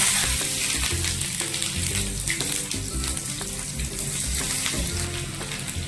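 Onions drop into hot oil for fried chicken leg pieces, giving a continuous close sizzle and hiss with faint clinks and a watery, splashy texture, with no voices heard.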